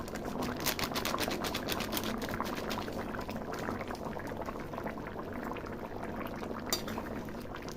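A pot of egg and potato curry bubbles at a steady boil, the gravy thickening as it reduces, giving a continuous close, moderately quiet burble with no voices.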